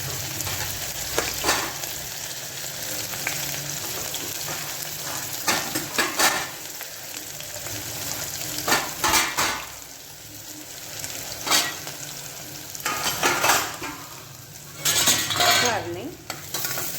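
Onions sizzle and fry in hot tempering oil while a spoon stirs them, the steady frying hiss broken by repeated sharp scraping and clinking strokes against the pan, close and loud with no talking.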